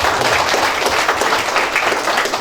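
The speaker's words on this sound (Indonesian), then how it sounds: "Tepuk tangan buat." Audience applause at an installation ceremony for a Nias community association in Bengkulu, a dense, steady wash of clapping from a crowd that holds at an even level throughout, with no voices above it.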